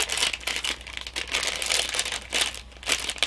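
Plastic packaging around a set of stitch markers crinkles close up as it is unwrapped, in continuous, uneven bursts of crackling with no talking.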